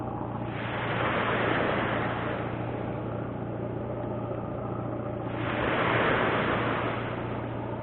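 Waves roll in on a shore near a campfire, two big surges swelling and then easing back over a steady windy wash.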